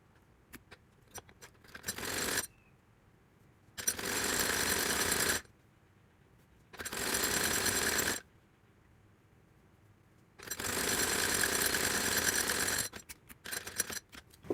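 A sewing machine stitches a folded sleeve hem on a maxi dress. It runs in four separate bursts of rapid, even clatter, each lasting one to two seconds, with a few short taps between them. The sound is close and there is no talk.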